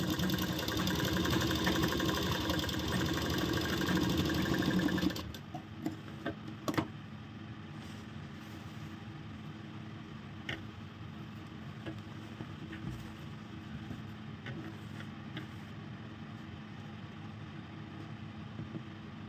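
A sewing machine stitching a ladies shirt, a loud steady motor whir for about five seconds that stops abruptly, then a quiet room with occasional light clicks.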